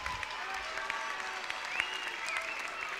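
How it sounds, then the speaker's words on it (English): Crowd applause fills a high school gym after a boys basketball game between Shawnee Mission Northwest and Shawnee Mission North, with steady, dense clapping and a few cheers throughout. "let's give one more big round of applause"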